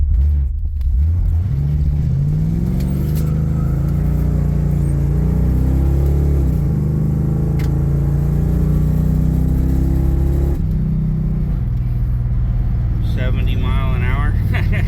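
Car fitted with an Edelbrock 4150 carburetor, engine droning loud and close with rising and falling revs as it pulls away and drives, a brief dip and then a fresh throttle surge near the end.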